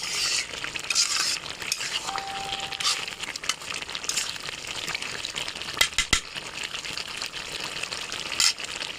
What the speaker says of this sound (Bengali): মাংসটা এভাবে কষাই নেব।